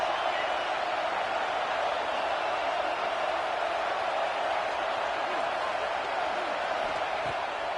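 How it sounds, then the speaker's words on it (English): A college football stadium crowd at an MSU vs Arkansas game cheers on third down, producing a steady, dense roar with no breaks that holds for the whole stretch. "This crowd rising up, sensing that its defense needs some help."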